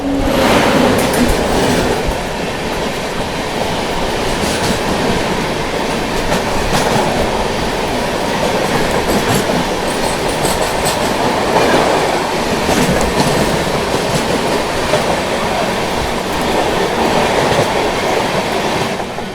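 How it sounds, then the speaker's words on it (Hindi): The Kerala Express, bound from New Delhi to Trivandrum Central, roars past close by, a loud, steady rush of wheels and rattling carriages with clickety-clack rhythm throughout. "यहाँ पर सामने से आ रही है न्यू दिल्ली से चलकर त्रिवेंद्रम सेंट्रल की ओर जाने वाली केरला एक्सप्रेस"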